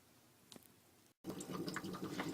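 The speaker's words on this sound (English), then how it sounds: "Okay, now as you can see it's bubbling" An aquarium air pump bubbling water in a jellyfish food setup, a soft continuous bubbling that starts after a brief silence and stays steady and close.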